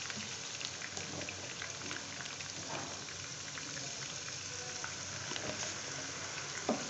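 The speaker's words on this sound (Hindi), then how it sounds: "आलू को हम फ्राई कर लेंगे थोड़ा सा" Continuous soft sizzling and crackling of potatoes frying in a pan, with a few faint pops and stirring noises.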